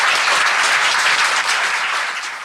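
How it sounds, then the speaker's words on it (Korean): Audience applause fills the room as a thick, loud, steady wash of many hands clapping at a lecture, tapering slightly toward the end. "이분한테 좀 박수 좀 부탁드립니다."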